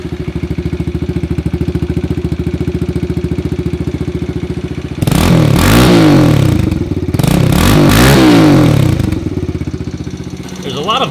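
Kawasaki KLX110L dirt bike engine idling with a steady mechanical clatter, then revved hard twice in loud bursts before settling back, with valve noise audible throughout and brief talk nearby.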